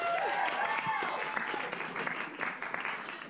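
An audience at an open-air music concert gives steady, dense applause, a continuous wash of clapping that fades slightly toward the end.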